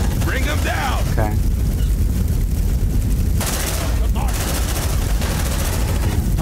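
Rapid sci-fi gunfire in Aliens: Dark Descent, a continuous heavy rattle of automatic bursts with booming impacts, loud and dense, with brief creature screeches mixed in.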